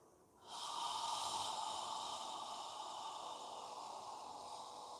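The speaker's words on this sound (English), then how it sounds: "Inhaling and exhaling completely." Deep, steady yoga breathing, a long full inhale and exhale, close and clear with a soft airy rush and no talk.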